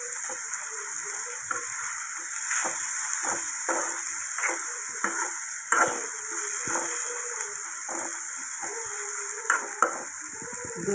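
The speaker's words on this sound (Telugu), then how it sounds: "ఉల్లిపాయలతో పాటు వేపుకోవాలి" Ridge gourd, tomato and dried shrimp frying with onions in a pan, a steady hiss of sizzling oil with intermittent stirring and scraping clatter throughout.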